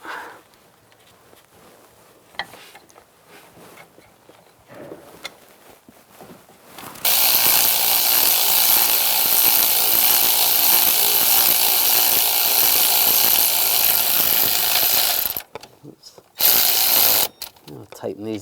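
A ratchet tightens bolts on the coolant crossover pipe of a 2011–2018 Ram 1500: soft handling clicks at first, then a loud continuous buzzing run of about eight seconds, a short pause and another brief burst.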